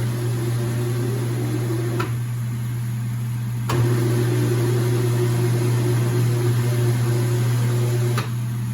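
A wheel balancer spins a car tire on its shaft, a steady loud motor hum with a constant drone, briefly interrupted by short clicks as it cycles between spins.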